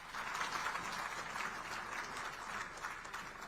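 Steady, dense applause from a large audience at the release of a souvenir volume during an event at the Vidhan Bhavan in Mumbai, sustained clapping of even loudness with no talk over it.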